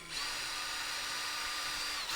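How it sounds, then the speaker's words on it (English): A power drill whines steadily at high speed while drilling a small hole in the corner of a rifle buttstock, one close continuous run of about two seconds with no talk. "so I'm just going to real lightly in the corner I'm going to drill a little hole right there"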